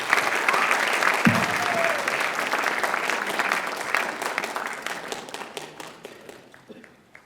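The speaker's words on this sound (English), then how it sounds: "Give her a round of applause" An audience at a high school writers expo claps for a sophomore student speaker, steady dense applause that thins and fades toward the end, with a brief murmur of voices in the room.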